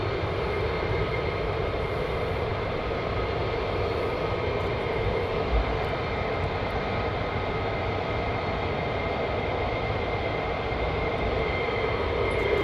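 F-35 fighter jets at RAF Lakenheath produce a loud, continuous, broadband jet roar that holds steady throughout, with no talk over it.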